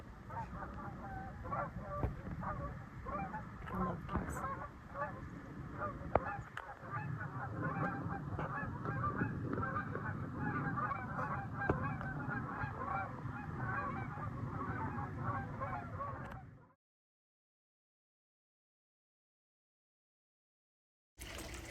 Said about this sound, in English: let you enjoy the sound of the geese